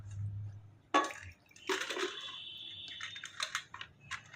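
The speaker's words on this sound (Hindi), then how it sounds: "ये देखो ये पानी फैलाने में लगे हुए हैं" Children splash and spread water around at home, producing a sudden sharp splash, then wet sloshing and dripping bursts at close range, irregular and interrupted by short quiet gaps.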